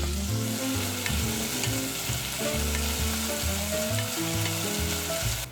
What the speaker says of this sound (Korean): 이제 중간불로 달군 팬에 기름 조금 넣고 양파를 볶아주세요.